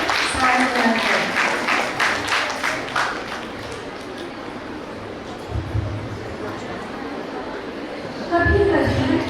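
An audience applauds at a stage programme for a religious profession ceremony of the Daughters of the Cross in Rourkela, loud clapping at the start that fades under a speaker's voice and later gives way to ongoing talk.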